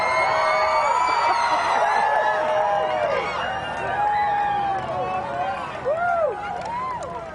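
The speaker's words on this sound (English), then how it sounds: "you're hearing that cheer because for just a moment" A crowd in Fredericksburg, Texas, cheers and shouts during a total solar eclipse as the clouds part, overlapping whoops and cries rising and falling over several seconds at moderate distance.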